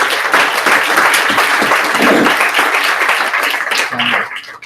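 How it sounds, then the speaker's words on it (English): A conference hall audience applauds for volunteers, a dense wash of many hands clapping that holds steady and then fades out toward the end. "I will request you to have a great clap for them."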